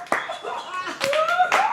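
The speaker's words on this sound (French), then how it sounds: "On y va, on l'encourage, on l'applaudit, mesdames et messieurs." A studio audience claps after an impression, a brief burst of hand clapping mixed with whoops and cheering voices, with a sung or shouted tone gliding through.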